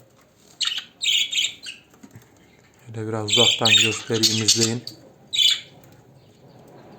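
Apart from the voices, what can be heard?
budgerigars chirping and flapping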